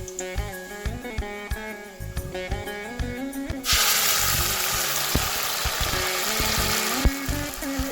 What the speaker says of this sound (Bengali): মশলাটাকে আগে ভালো মতো ভেজে নেব